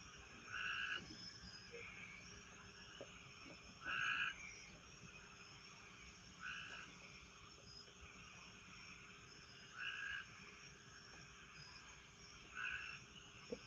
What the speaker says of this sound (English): I like hearing all these crickets and stuff out here at night.